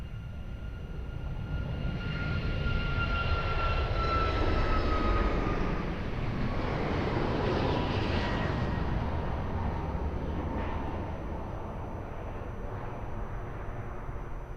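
An airliner takes off at Lisbon Airport, its engines building to a loud, broad roar with a whining tone, then holding a steady rumble as it climbs and slowly fades.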